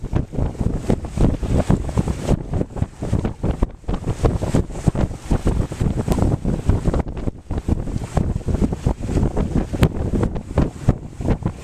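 Strong wind buffets a sailboat out on open water, a continuous loud rushing with irregular gusts and pounding against the microphone, no talk.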